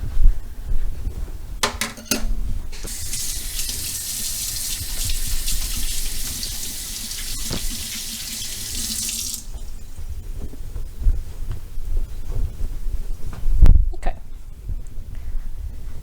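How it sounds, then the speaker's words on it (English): Kitchen tap running as hands are washed, a steady hiss of flowing water that starts after a couple of knocks, lasts several seconds and then stops, followed by low handling thumps. "Let me wash my hand quickly."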